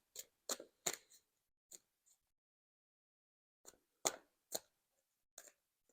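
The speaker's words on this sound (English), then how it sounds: "I'm going to leave those there for now while I pull your tarot cards." Tarot cards drawn from a deck give soft, crisp snaps and flicks close by: a quick cluster early, a lone tap, then a pause and another scattered group, all faint and without speech.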